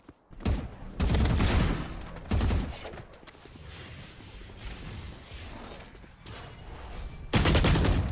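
Gunfire in Valorant on the Breeze map: several loud, close bursts of rapid automatic shots separated by short pauses, with quieter clatter between them.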